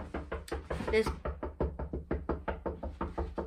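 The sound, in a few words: knocking on a door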